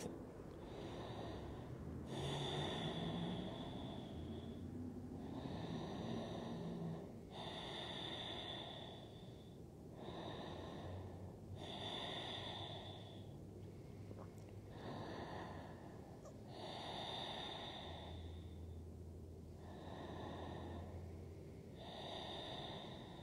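Slow, steady breathing during a reclined yoga hip stretch, with long drawn-out inhales and exhales through the nose repeating in a calm rhythm, close and soft, with no talking.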